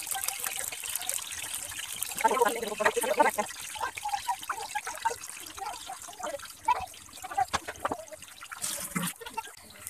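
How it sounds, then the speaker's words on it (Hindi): Battered potato pakoras sizzle and bubble in hot frying oil with a steady, close crackle and occasional louder spits. The frying continues throughout at a moderate level. "जब तक हमारे ये पकोड़े फ्राई होते हैं"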